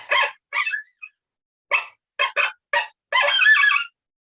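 A young coyote gives a challenge bark: a series of sharp, clipped barks spaced unevenly, ending in a longer wavering yelp, loud and alone against silence.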